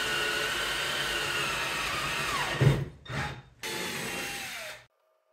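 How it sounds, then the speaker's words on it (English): A power drill whirs steadily as its bit bores a hole for a 1/4-20 fastener, then its pitch shifts and it stops briefly, restarts, and winds down to silence. "Now this drill bit goes in straight."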